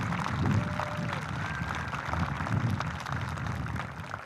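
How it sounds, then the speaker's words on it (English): Applause from a crowd for teachers and support staff at a middle school promotion ceremony, a steady, moderately loud wash of many hands clapping together with a faint tone running through it. "Please turn and give your teachers and support staff a round of applause."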